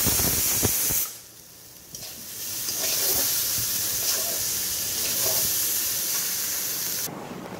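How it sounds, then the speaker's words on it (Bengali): A pressure cooker whistle blasts steam in a home kitchen, a loud continuous hiss that starts suddenly, runs steadily for about six seconds and then cuts off abruptly. "প্রেশার কুকারে সিটি মারছে"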